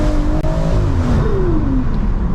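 A Stage 3 tuned BMW M140i accelerating hard on a tree-lined road, engine note climbing through the revs, dropping briefly at a gear change and then rising again, loud and close from inside the car.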